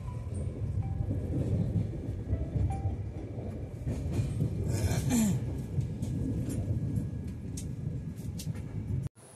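Passenger train rolling toward New Cooch Behar station on the Hooghly to Cooch Behar route, with a steady loud rumble and faint wheel clatter throughout, heard from inside the carriage without talk.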